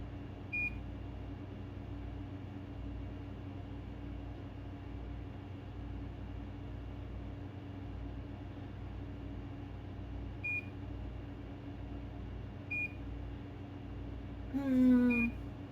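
Air fryer control panel giving short, high electronic beeps, a few isolated single tones spread apart over a low steady hum, quiet and close in a kitchen.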